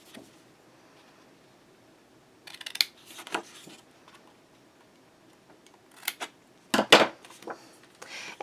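Scissors cut squares out of scored paper at the corners of a floral folio, a few short crisp snipping bursts separated by quiet pauses, close and alone.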